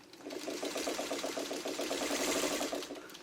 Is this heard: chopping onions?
no